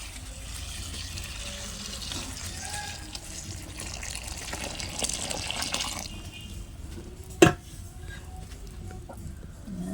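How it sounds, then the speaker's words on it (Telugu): Water pours in a steady rush for several seconds while making cauliflower pickle, then stops, followed by a single sharp clink. "చూడండి నీళ్ళు అలా పడుతున్నాను"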